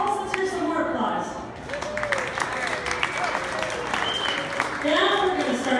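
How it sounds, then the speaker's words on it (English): An afternoon event crowd applauds artists at a house party, sustained clapping and cheering that swells and fades over several seconds while a voice speaks over it. "Let's hear some more applause."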